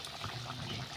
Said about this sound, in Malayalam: നന്നായി തിളച്ച് മൊത്തത്തിൽ തിളക്കണം മൊത്തത്തിൽ തിളക്കുന്നുണ്ടല്ലോ